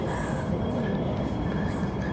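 MTR train at Yau Tong Station, a loud continuous low rumble and rolling roar of the cars close by, with a faint tonal whine above it.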